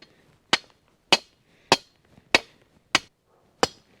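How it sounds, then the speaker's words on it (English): Six evenly spaced, crisp hammer strikes drive a stake against a wire beaver protection cage around a tree, each hit loud and close with quiet in between. "let's get started hammering it."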